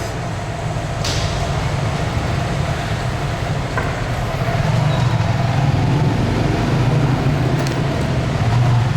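A brand-new Honda Grom 125 motorcycle with its stock exhaust rides through city traffic in Saigon, its engine drone steady and close beneath broad road and wind noise.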